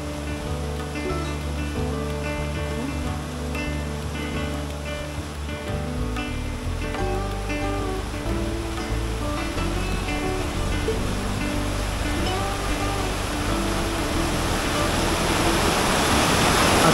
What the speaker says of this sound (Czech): přijíždím k místu, kde cestu křižuje studený potok